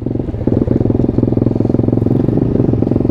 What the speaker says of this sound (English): Bike's idling, so once it gets warmed up